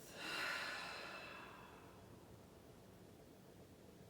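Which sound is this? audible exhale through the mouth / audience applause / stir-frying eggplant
audible exhale through the mouth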